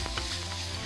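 Garlic and ginger paste sizzling steadily in hot oil in a pan, a soft continuous crackle with a faint stir near the start, no talking.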